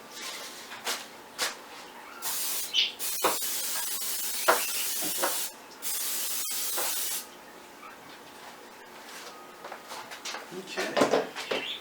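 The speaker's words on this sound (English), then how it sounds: "Butter flavored spray grease." Butter-flavored cooking spray hisses from a can in two steady bursts, close by, surrounded by light kitchen clatter.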